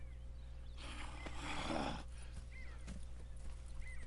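A horse in a Red Dead Redemption 2 game scene gives a faint, breathy snort or neigh over a steady low hum, with scattered soft hoof or movement sounds afterward.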